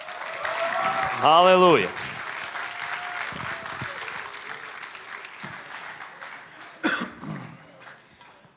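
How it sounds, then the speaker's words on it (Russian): Applause from a church audience rises briefly amid a lively hall, with a voice shouting over it and scattered crowd noise. "Хорошие аплодисменты можем дать?"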